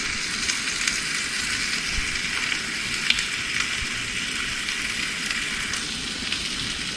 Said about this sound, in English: Finished in the cast iron skillet.